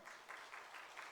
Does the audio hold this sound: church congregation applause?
yes